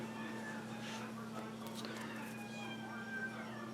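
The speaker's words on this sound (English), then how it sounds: "My cat is meowing on the hallway." A house cat meows out in a hallway, faint and distant, a few thin calls rising over steady low room hum while a person talks nearby.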